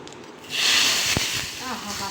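A sudden burst of loud, bright sizzling hiss as a hot oil and cumin tempering is poured into liquid, settling into a steady crackle that fades slightly toward the end.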